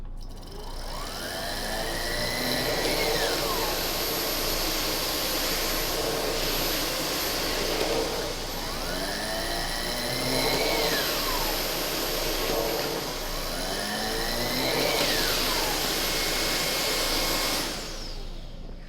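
Miele Duoflex HX1 cordless stick vacuum running steadily and close, a continuous whirring motor drone with a roller pitch that repeatedly sweeps up and falls away every few seconds, cutting off near the end.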